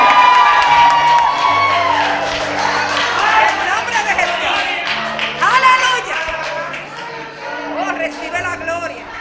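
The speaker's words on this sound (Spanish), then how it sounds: "Da un grito de júbilo fuertemente a Dios todavía." A church congregation shouting and cheering for joy, a loud, dense crowd roar with whoops and some clapping, near and continuous, with a voice speaking over it.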